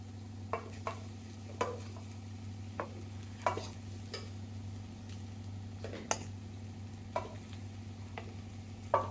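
A spoon stirs and mixes carrot chitranna (carrot rice) in a pan, with scattered scraping clicks and a faint sizzle over a steady low stove hum.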